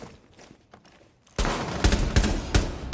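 Rapid bursts of gunfire in a shooter video game, loud and close, starting after a quiet stretch with brief muffled noises, then several sharp volleys firing in quick succession.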